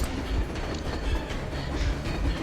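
Train rolling past in the video game Metro: Exodus, a dense continuous rumble and clatter of wheels on rails, loud and close throughout with no talk over it.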